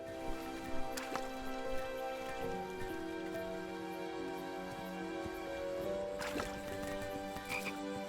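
Frogs croaking in the King's Quest video game, a dense continuous chorus of overlapping croaks over a rain-like background, with a couple of sharper clicks, no talking.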